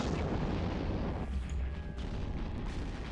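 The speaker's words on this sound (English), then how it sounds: "So there go my missiles. Rapid heavy missile launchers" Rapid heavy missile launchers firing in the space game EVE Online produce a dense, continuous low booming rumble, loud and close, with no pauses.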